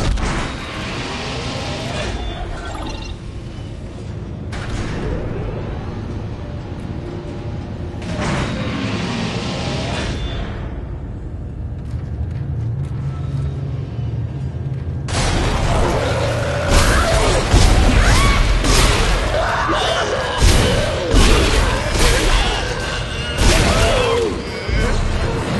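In Dead Space 2, a grenade explosion gives a sudden heavy boom that rolls into a long, loud crashing and rumbling aftermath, with someone talking over the game sounds.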